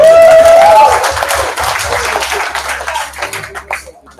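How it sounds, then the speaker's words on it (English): Audience at a local Islamic startup meetup clapping loudly, then tapering into scattered individual claps. A few voices murmur in the background as the applause dies down. "Let's give them a round of applause"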